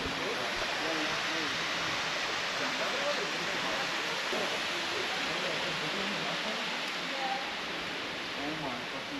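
A small creekside waterfall on a San Diego hiking trail, running at modest flow, gives a steady, full rushing hiss close by that stays even and unbroken throughout with no talking.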